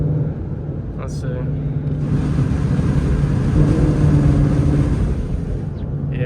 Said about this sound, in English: all you guys hear are wind.